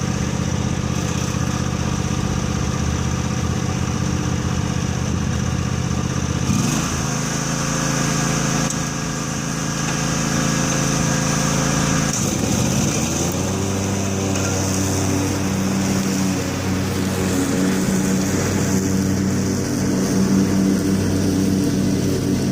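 A lawn mower runs with its deck cutting grass, the deck cutting unevenly with the right side lower. The engine drones steadily up close, with its pitch dipping and recovering twice as the load changes.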